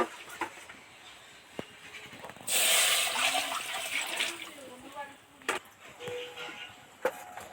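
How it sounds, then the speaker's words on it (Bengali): Water is poured into a hot kadai while ol chingri, an elephant foot yam and prawn curry, is being cooked, giving a sudden loud hissing rush that settles into softer bubbling and sizzling, with faint kitchen noise around it. "এবার একটু জল দিয়ে দেব"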